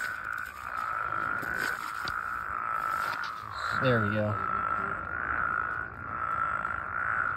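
An Anaxyrus toad near Denver, Colorado gives one short, pulsed trill close by, set against a steady outdoor chorus, and a person speaks briefly.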